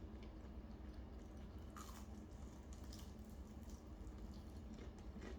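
Crunching bites of Indian KFC fried chicken wings, a steady close-up run of crisp chewing and crackling textures with no talk over it.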